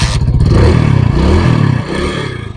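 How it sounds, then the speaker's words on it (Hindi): A motorcycle engine just repaired with a new spark plug runs loud and close, its rapid firing pulses climbing as it revs, then easing back toward idle. "अब बाइक को स्टार्ट करके देखिए तो स्टार्ट हो रहा है कि नहीं हो रहा।"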